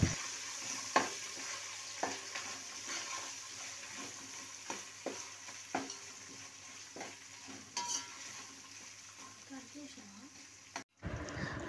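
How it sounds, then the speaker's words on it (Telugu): Ginger garlic paste frying for egg dum biryani, a faint sizzle punctuated by repeated stirring scrapes and clacks of a spoon against the pan, with a short pause near the end. "అలాగే అల్లం వెల్లుల్లి పేస్ట్ కూడా అందులోనే వేసి బాగా ఫ్రై చేసుకుంటున్నాను."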